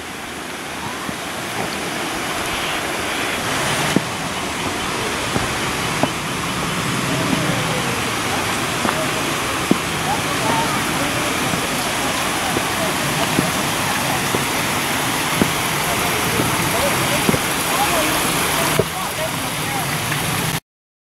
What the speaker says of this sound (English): the waterfall is over the lip of rock there